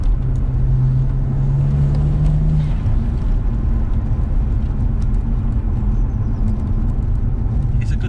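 A BMW E82 135i with full bolt-ons, about 400 bhp, pulls hard in fourth gear, its engine a loud continuous drone close to the microphone, with a brief whoosh late in the pull.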